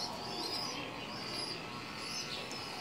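Native baladi pigeons give faint, repeated cooing and chirping calls over a low steady background hum, with no talking.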